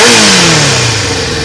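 A 1994 Honda CBR600F2 motorcycle engine fitted with an M4 exhaust revs loudly up close, its pitch falling off as the throttle closes in one short burst.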